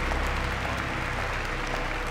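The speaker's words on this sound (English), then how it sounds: "Why are you clapping? Stop clapping." Crowd applause in the video game Virginia, a dense, steady wash of clapping that carries evenly throughout, loud and close with no voices over it.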